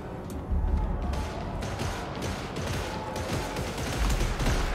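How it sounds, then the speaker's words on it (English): Sustained, dense gunfire from a Warhammer video game, with rapid overlapping shots and mechanical clatter filling the whole stretch at a steady, loud level without pause. "That is a lot of gunfire."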